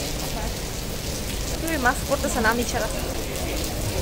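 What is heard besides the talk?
rain falling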